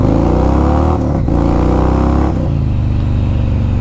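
A budget motorcycle with an odd-looking aftermarket exhaust roars loudly and close as the throttle is opened, its engine note climbing in pitch, dipping briefly and surging again through repeated pulls.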